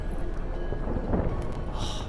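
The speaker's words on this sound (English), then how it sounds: "Didn't bargain for no storm." Thunderstorm at sea in the video game Witcher 3: a continuous rumbling roar of thunder, rain and wind, dense and loud with no talking.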